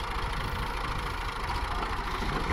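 A tractor engine runs steadily at close range, a continuous low rumble with no break and no talk over it.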